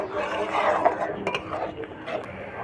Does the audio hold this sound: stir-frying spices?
yes